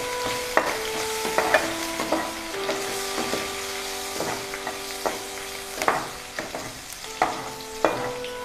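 Onion and green chili frying together in a pan of oil with fish, a soft steady sizzle broken by occasional scraping and clinking of a stirring spoon, no talking.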